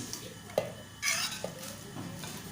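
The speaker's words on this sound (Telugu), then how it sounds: "వేయించినాక చల్లారిన టమాటాలు పుదీనాలోనే వేసుకొని కలుపుకోవాలి" A spoon stirs cooled fried tomatoes into mint for a pudina chutney in a metal vessel. Soft scraping and a few light clinks sound close and quiet, with no talking.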